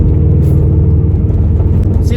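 A loud, steady low exhaust drone from an AWE Track Edition exhaust, nearly straight pipe, booms inside a moving car, with a voice talking over it.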